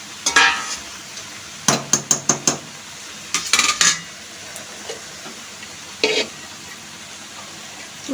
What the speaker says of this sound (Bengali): এবার মাছের মাথাগুলো দিয়ে দেবো।